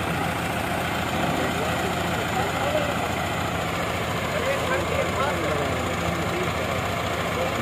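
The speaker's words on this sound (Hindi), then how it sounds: "ट्रैक्टर स्टार्ट कर लिया गया है" A tractor engine idles on a boat during unloading of a tractor trolley, a steady loud low rumble with continuous mechanical drone throughout.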